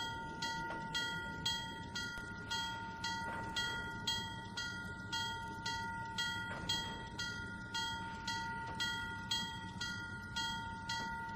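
In the Trainz 2019 game, a train eases boxcars backward into place on the C&O Hinton line, with regular clanking wheel beats and a steady mechanical hum at a quiet, even level and no voices.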